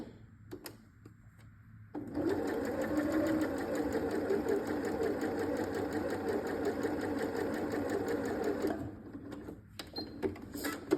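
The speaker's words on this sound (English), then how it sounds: "as I'm taking that through, that is going to be sewing where the red line is" Steady whirring drone of a sewing machine stitching a quarter-inch diagonal quilt seam, running continuously for about seven seconds at close range with a faint mechanical clatter, then stopping, with a few small clicks before and after.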